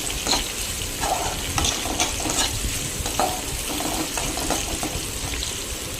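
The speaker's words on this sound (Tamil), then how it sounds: "பச்சை மிளகாய், கருவேப்பிலை போட்டு வதக்குறேன்." Onion, green chili and curry leaves sauté in oil with mustard seeds for a raw-banana coconut-milk curry, giving a continuous close sizzle with occasional stirring scrapes and light clinks of a utensil against the pan.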